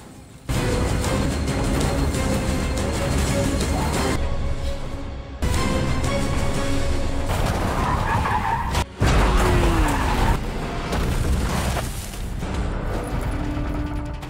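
Tires skid and squeal loudly as a car hit by a gas cylinder spins, engine roaring throughout, with the screeching coming in several long, close bursts.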